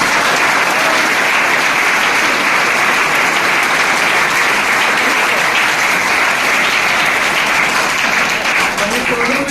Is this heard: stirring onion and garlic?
no